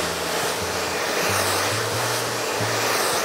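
A hair dryer blows a steady roar of hot air at the roots of hair being smoothed for a loose curly style, loud and continuous with slight shifts in pitch as the nozzle moves.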